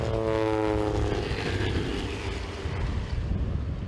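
Propeller airplane taking off to drop rabies vaccine baits over farmland and forest belts in Ukraine's Kirovohrad region. The engine drone is loud and close, with a steady whining tone that eases off slightly over a few seconds.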